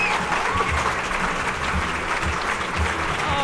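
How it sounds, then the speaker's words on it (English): Sustained applause from a chamber of commerce dinner audience fills the room, a dense, steady wash of clapping with faint voices mixed underneath. "Round of applause."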